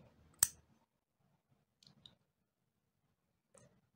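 Yarn being cut while crocheting a fingerless glove: one sharp snip up close, followed by a few faint soft clicks and rustles in an otherwise quiet space.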